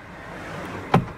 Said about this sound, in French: et la porte se lève comme ça